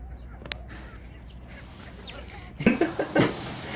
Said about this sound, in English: you can see wild chickens running around everywhere